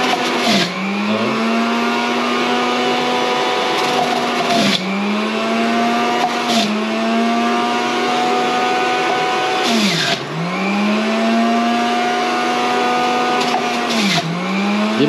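An electric juicer running steadily and loudly, its motor whine holding a constant pitch then dipping and recovering several times as produce is pressed in, with no talk over it.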